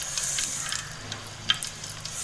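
Mustard seeds frying in hot oil for a Tulu-style South Indian mackerel fish curry, a faint, continuous sizzle with scattered small pops and crackles, soft and close.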